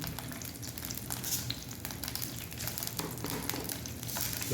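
Water droplets spatter and crackle in hot oil in a pan while tempering for a dal kulambu, a loud continuous sizzle with popping bursts close by.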